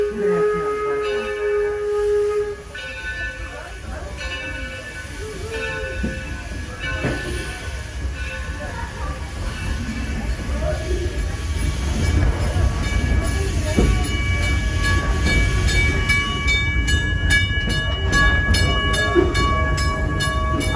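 A passenger train on the Torch Lake ride rolls steadily along the rails with a constant low rumble and clatter, and its horn sounds briefly near the start while the noise builds toward the end.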